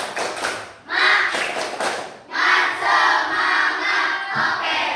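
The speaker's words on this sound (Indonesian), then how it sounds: "Tepuk semangat" Classroom participants perform a rhythmic Indonesian spirit clap chant, bursts of group clapping and shouted chanting that stop and restart in several loud waves, with voices in the crowd throughout.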